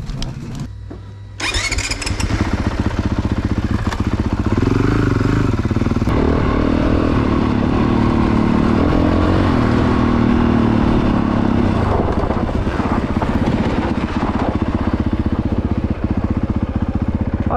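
A 2021 Honda CRF 450R motocross bike starts with a sharp burst, then its single-cylinder engine holds a loud, steady idle with rising revs nearby, no talking.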